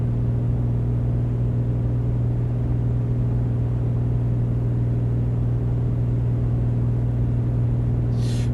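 Steady droning engine of a Piper Comanche in Microsoft Flight Simulator 2020, cruising at reduced power and RPM, a loud constant low hum with no talk.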